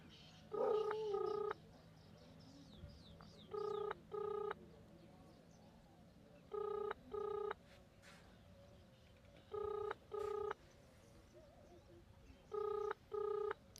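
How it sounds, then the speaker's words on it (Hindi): A telephone call rings on a line: short paired ringback tones repeat at regular intervals, quiet and clean, with faint murmur and a brief voice near the start. "फ़ोन मिला रखा है"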